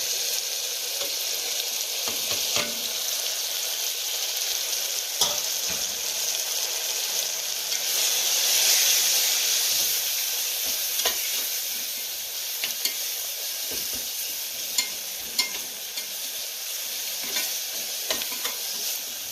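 Onion and tomato fry in oil in a pan, a steady bright sizzle running throughout with repeated clicks and scrapes as they are stirred, close up and without talk.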